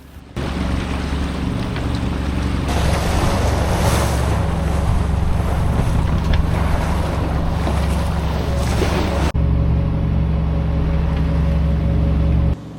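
Choppy, bouncy sea in the English Channel near Cherbourg washes and slaps loudly around a small sailboat under way in windless conditions, a constant rushing roar of water with low rumbling and microphone buffeting.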